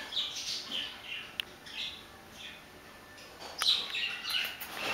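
Birds chirping and tweeting in bright, scattered calls, moderately close, with a steady faint background hum.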